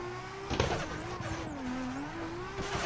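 A drifting car on the Ozark Raceway track holds a steady engine drone, then a sharp downshift blip breaks in, and tires squeal faintly while the revs rise and fall through the turn.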